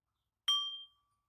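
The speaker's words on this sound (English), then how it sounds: "I'm going to ring a chime." A single bright chime rings once to end a yoga relaxation session in a garden, its clear tone decaying over about half a second in silence.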